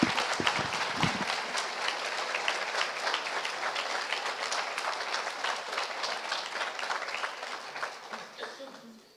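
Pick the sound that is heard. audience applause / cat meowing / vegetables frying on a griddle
audience applause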